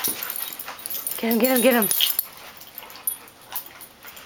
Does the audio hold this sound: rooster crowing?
no